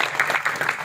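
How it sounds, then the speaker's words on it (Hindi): A brief burst of audience clapping, many hands patting together at once, welcoming a guest at a poetry recital. "आदरणीय आनंद जी इनका माल्यार्पण कर जोरदार तालियों से सभी स्वागत करें।"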